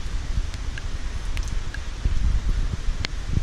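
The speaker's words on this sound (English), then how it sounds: "We're gonna get like a gust again now that it stopped." Wind blows steadily outdoors during Hurricane Florence in North Carolina, a low rumbling rush with buffeting noise on the microphone and a stronger gust swelling near the end.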